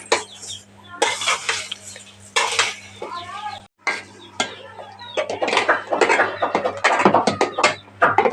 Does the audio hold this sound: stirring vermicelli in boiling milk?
yes